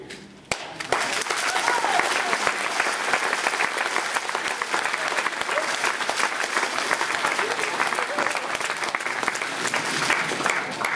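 A crowd applauds steadily and loudly for about ten seconds after a brief quiet start, the clapping dense and sustained with a faint murmur of voices mixed in.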